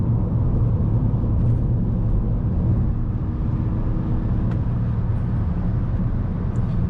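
A manual VW Golf 6 1.4 TSI with 122 hp, gently accelerating on the road at about 2500 rpm: a steady, loud engine and road drone that holds evenly throughout.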